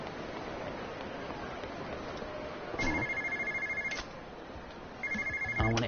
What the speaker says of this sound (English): I don't want to answer the phone, I want to save.